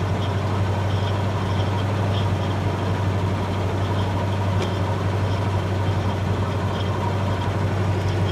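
A 1965 Ford F250 4x4 pickup idles steadily with a constant low engine rumble, loud and close, with no talking over it.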